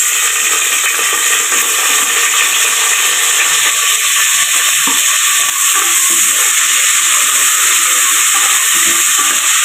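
Onions sizzling in hot oil in a pan while a mutton paya salna is being made, a loud, steady frying hiss that carries on unbroken, close to the pan.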